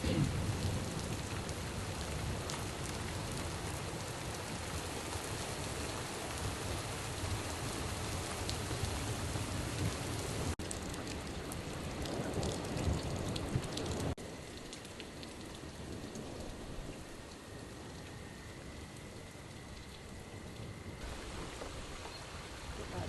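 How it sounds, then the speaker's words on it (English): Heavy rain pours down steadily outdoors, a dense broadband hiss that stays loud throughout, dropping slightly in level partway as if cover is reached, with a faint tonal hum in the later section. "the rain is starting to come down"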